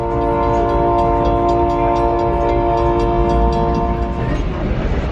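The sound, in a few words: old ghost town train riding the rails, Ely Nevada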